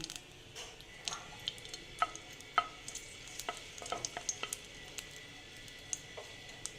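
Two dry red chillies sizzling in hot oil in a pan for a sweet raw mango chutney, a quiet, steady crackle with scattered sharp pops and ticks, no voices.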